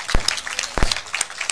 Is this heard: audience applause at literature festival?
yes